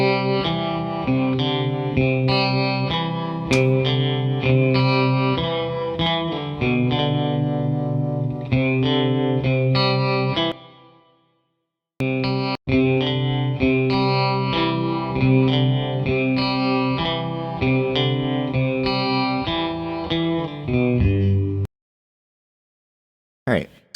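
Electric guitar doubled with several layered takes for a thick, chorus-like shimmer, playing chords and notes steadily for about ten seconds, a short pause, then another ten-second phrase ending in silence with a brief final strum.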